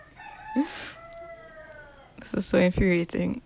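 A rooster belonging to neighbors crows nearby in a backyard setting, one drawn-out call rising and falling, followed by a person talking loudly close up.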